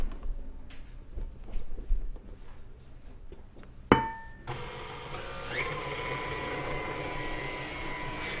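Electric mixer blending dry ingredients into wet batter in a kitchen: faint clatter at first, then a sharp knock and a steady whirring motor hum that continues to the end, with no talking.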